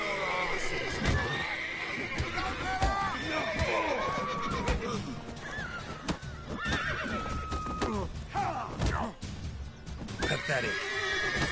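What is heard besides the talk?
horses neighing in The Witcher video game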